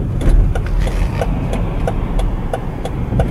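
A Volvo XC90 turbo SUV engine idles with a steady low rumble and light ticking, heard up close and loud, with no one talking.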